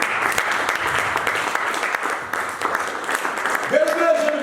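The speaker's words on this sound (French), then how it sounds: "Acclame Jésus, acclame Jésus." A church congregation applauds with dense, sustained clapping, mixed with voices and a singing tone rising near the end.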